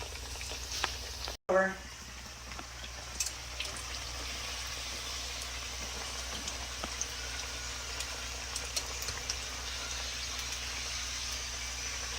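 Puerto Rican pastelillos fry in a pan of oil with a steady, soft sizzle that runs throughout, broken by a brief clatter near the start, at a moderate distance.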